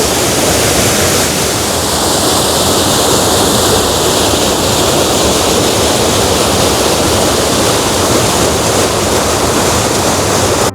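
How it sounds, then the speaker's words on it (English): Heavy water cascade pouring into Ladybower Reservoir from Nether Booth, a loud, steady, broadband roar of churning flow that stays unbroken throughout, close up and with no voices. "Look at that cascade and that heavy flow."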